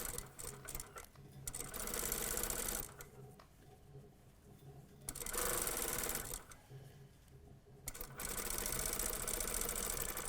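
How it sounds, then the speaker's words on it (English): A sewing machine stitching down the tape of a lapped zipper pocket on a vest: fast, even mechanical clatter in three bursts separated by quieter pauses, close and without talk. "So I'm going to pin stitch this down."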